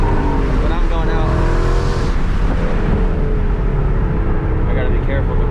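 A Mustang GT drives on a slick road, its engine a loud, continuous low drone with shifting tones as it pulls along, and a voice talks over it.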